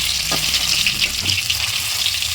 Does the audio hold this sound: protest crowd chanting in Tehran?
no